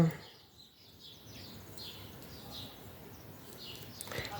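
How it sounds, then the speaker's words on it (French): Faint birdsong drifts in from outdoors as short, scattered high chirps over a soft, hissy background, distant and quiet, with no voices. "les oiseaux sont contents hein, dehors. Je sais pas si vous les entendez"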